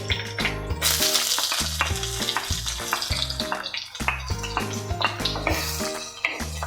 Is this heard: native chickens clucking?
no